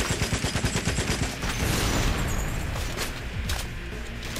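Rapid automatic gunfire aimed at enemy soldiers in the GoldenEye Rogue Agent video game, a dense rattling volley that blends into a continuous roar of shots and explosions.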